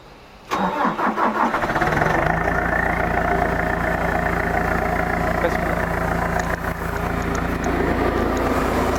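A C45KD forklift engine cranks and catches after a brief pause, then settles into a steady, loud diesel idle that runs on without change.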